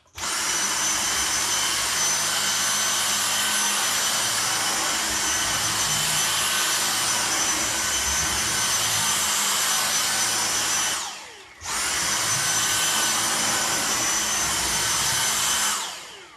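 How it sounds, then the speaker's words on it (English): A Dyson DC59 cordless handheld vacuum runs on maximum mode, a loud steady high-pitched whine held close for a long stretch, briefly cut off near the end before starting straight back up. "that was the hoover on maximum mode"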